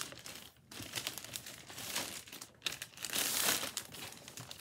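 Packaging being rustled and crinkled while unboxing a sewing bespoke box, continuous close crackling and crumpling with a brief tearing-like burst, fairly quiet overall.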